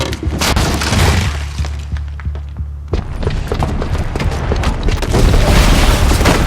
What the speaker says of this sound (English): Because the booby trap on the bomb downstairs is gonna get set off.